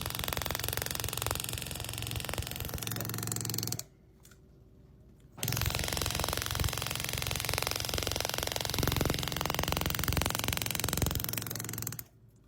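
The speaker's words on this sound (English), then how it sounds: "So now I'm going to show what it can do engraving the mild steel" A KATWAY pneumatic engraving handpiece with a heavy piston carves mild steel, giving a dense, steady buzzing hammer close up that stops briefly for about a second and a half, then resumes until cutting off.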